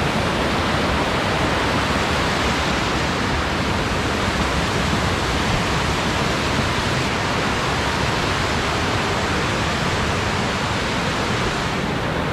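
A waterfall beside a mountain bike trail in the Swiss Alps near Chur roars as a dense, unbroken rush of water, loud and constant throughout with no voices.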